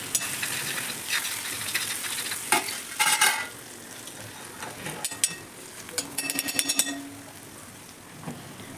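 Stuffed brinjal curry is stirred and scraped in a pan, giving an irregular run of scraping and clinking strokes over a steady frying sizzle, close and moderately loud, with no talking.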